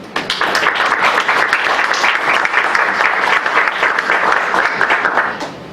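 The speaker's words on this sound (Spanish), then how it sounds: "La recibimos con un cálido aplauso" A lecture audience gives a warm round of applause welcoming a conference speaker, sustained and fairly loud from start to finish before tapering off at the close.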